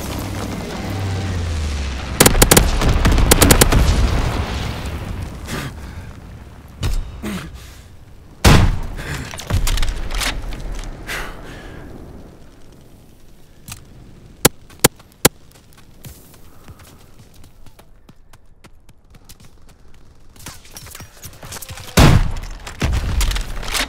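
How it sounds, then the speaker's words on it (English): Incendiary bomber strike in Call of Duty WWII multiplayer, with a heavy burst of booming explosions early on, then scattered blasts, sharp cracks and distant rumbling carrying through the rest of the scene. "Low altitude bomber inbound. Dropping incendiary."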